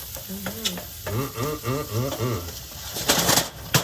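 Onion mixture for a meatloaf being stirred in a hot pan, a steady sizzle with scraping stirs and a soft rhythmic cooing-like sound in the middle, close and moderately loud.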